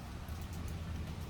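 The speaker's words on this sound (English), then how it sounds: "It's raining today" Steady rain comes down outside a car workshop, a dense, even hiss with soft patter and a low rumble underneath, and no voices.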